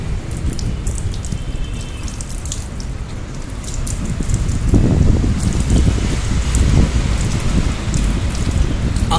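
Water splashes steadily over a hand during ablution in a washing ritual, a close, continuous pouring patter that swells louder partway through.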